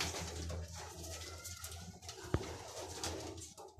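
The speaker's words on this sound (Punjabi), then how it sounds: "ਪਾਕਿਸਤਾਨ ਦੇ ਵਿੱਚ ਲਾਲ ਪਰੀ ਕਬੂਤਰ" Lal Pari pigeons in Pakistan coo softly in a low, steady murmur, faint against a quiet background with one brief sharp click midway.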